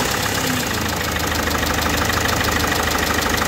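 A car engine with its EGR valve half open runs at a steady idle, a low continuous rumble with a slight rhythmic knock, close by and without talk.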